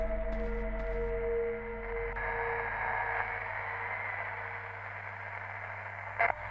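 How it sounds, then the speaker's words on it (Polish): A radio plays loudly in the video game Alpha Polaris, a steady, staticky broadcast with hum and noise filling the whole stretch, and a brief sharp burst near the end. "Słychać dźwięk jakiegoś radia."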